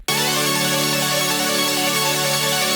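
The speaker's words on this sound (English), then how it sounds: "I got this little melodic loop that sounds like this" A sustained melodic synth loop for dubstep production, bright and harmonically rich, plays alone at a steady level for a few seconds.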